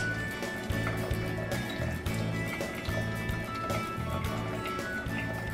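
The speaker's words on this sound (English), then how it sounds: "lift out the basket, let it drip some of that water back into the pot" Water drips and trickles from a basket of blanched Swiss chard lifted out of a pot, a steady close splashing with irregular soft knocks, heard alone without talk.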